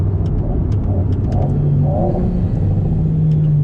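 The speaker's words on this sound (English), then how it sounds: "the engine revs went quite high back into second gear" A 2019 Alpine A110 engine revs up as the car downshifts into second gear, a loud steady drone heard from inside the cabin alongside road rumble.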